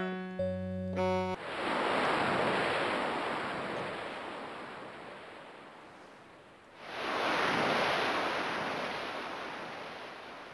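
Sea waves sound effect: two broad, loud washes of surf, each swelling fast and then slowly receding, with a brief synth tone at the start and no talk.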